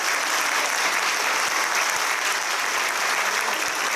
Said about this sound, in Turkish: kuvvetli bir alkış lütfen